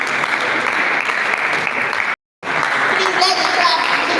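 Sustained applause fills a crowded hall at a college food week event, dense and loud. It breaks off in a short silence, then resumes just as strongly, with voices mixed into the crowd.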